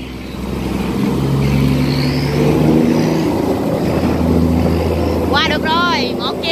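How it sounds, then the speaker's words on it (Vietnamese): A boat grinds loudly against a sluice gate over a steady low engine drone, with a voice rising briefly near the end. "tiếng va chạm giữa ghe vô cái hành cống rất là lớn."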